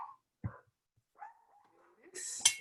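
A pet dog in a home kitchen gives a few scattered barks and whimpers, short and fairly distant, between quiet stretches, with a person speaking nearby.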